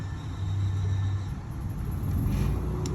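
A 2011 Gulf Stream Conquest RV's onboard generator runs outdoors with a steady, lawnmower-like motor drone and low rumble, constant and fairly loud throughout with no voices.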